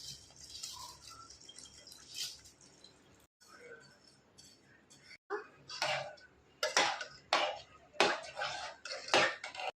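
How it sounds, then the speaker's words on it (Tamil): A pressure cooker lid clanks and scrapes shut over soaking rice and water for kuska biryani, with several metallic knocks and rattles near the end and a voice talking through it. "குக்கரை க்ளோஸ் பண்ணிக்கலாம்."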